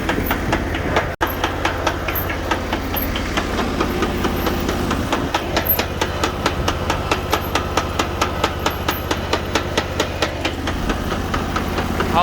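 A Sears Suburban garden tractor runs with its transaxle knocking: a steady close engine drone carries rapid, evenly spaced knocks throughout, with no talking.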